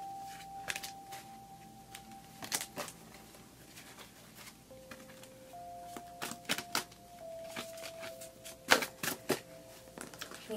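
Tarot cards being shuffled by hand, a quiet papery patter of riffles and taps coming in bursts, with a few brief clicks and faint tones in between.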